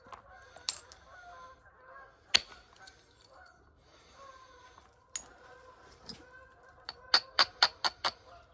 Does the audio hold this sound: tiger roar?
no